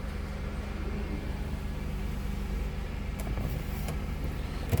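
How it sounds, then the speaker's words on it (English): A 1996 Buick Riviera with a supercharged 3800 V6 idles smoothly in a low, quiet, continuous hum. A brief faint clunk comes right at the end. "You can hear that 3800 just purr too."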